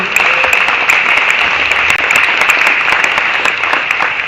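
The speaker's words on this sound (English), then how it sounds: "So let's give it one more round of applause for them, please." Tennis crowd at a college women's national team championship applauding event staff, loud dense sustained clapping with no talk over it.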